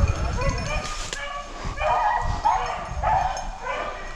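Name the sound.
hunting dogs barking on a rabbit hunt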